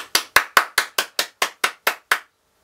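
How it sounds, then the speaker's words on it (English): Applause for a rubber band bed bug trick comes as about ten crisp, evenly spaced claps in a quick, regular rhythm, close and clear, then stops dead into silence. "Would you please give Senor Valdez a big round of applause?"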